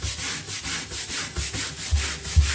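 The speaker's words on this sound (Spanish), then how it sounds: "ahorita lo estoy tallando" Steady back-and-forth scrubbing of a bathroom bathtub by hand, a close, rhythmic rubbing with regular strokes about every quarter second and no talking.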